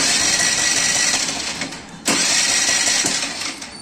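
A TVS Jupiter scooter being serviced at a mechanic's shop cranks and starts with an abrupt burst, then runs at a steady, buzzing idle close by, with no speech over it.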